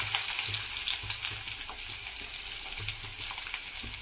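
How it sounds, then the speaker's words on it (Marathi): Onion frying in a few spoonfuls of oil with crushed chillies and garlic for a Marathi safflower-greens dish, an even, close crackling sizzle broken by light stirring taps, no one talking. "कांदा टाकला आता आपण तो चांगला परतून घेऊया"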